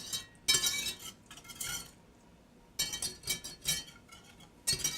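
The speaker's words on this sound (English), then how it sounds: "You want to keep stirring so it doesn't stick to the pan and burn" Garlic and red pepper flakes are stirred in a pan. A metal utensil scrapes and clinks against it in uneven bursts with short pauses between, close by and with no talking.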